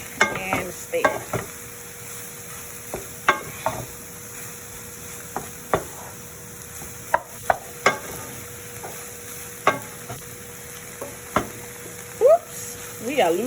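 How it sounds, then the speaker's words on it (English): Rice being stir-fried with beef and shrimp in a hot pan, a soft continuous sizzle punctuated by regular sharp spatula scrapes and knocks against the pan, close and distinct, with a brief voice near the end. "Throw it in there and stir."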